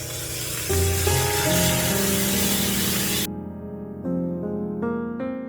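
Wine splashed into a hot steak pan holding shallots and mushrooms gives a loud, hissing sizzle that rises and runs for about three seconds, then cuts off abruptly, with a music-like tonal bed underneath.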